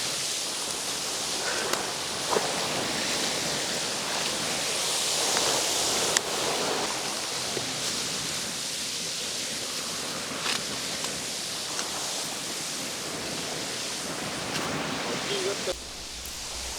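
A waterfall rushes in a steady, dense roar with a light breeze, near and constant throughout while a buffalo leg roasts over embers beside it, one person talking faintly beneath the water noise.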